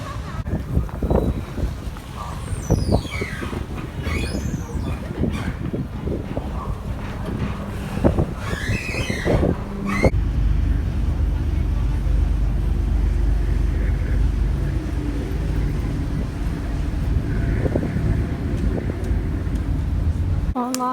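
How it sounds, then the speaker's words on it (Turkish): A ferry crossing toward Eminönü in Istanbul, with steady low engine and water rumble under heavy wind buffeting on the microphone, plus busier mixed noise in the first half before settling into a continuous drone. "Şimdi buradan vapurla Eminönü'ne geçeceğim."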